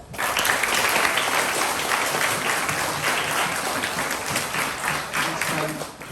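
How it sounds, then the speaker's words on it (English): Sustained applause from a school audience at a years 3–6 presentation day, steady and fairly loud throughout with a few scattered voices mixed in. "Can we give Katie another big clap?"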